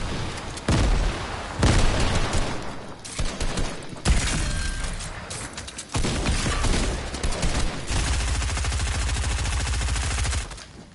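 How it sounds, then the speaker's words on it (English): Grenade explosions and gunfire in the Fortnite video game, loud repeated booming blasts and rattling bursts filling the whole stretch, with a steady dense barrage toward the end. "I'm gonna light up some grenades."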